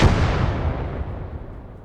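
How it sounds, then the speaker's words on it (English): A secondary explosion in the war video game Blood Red Snow bursts loudly at the start, then rumbles and decays into a long fading roar with no talk over it. "That's a secondary explosion from somewhere."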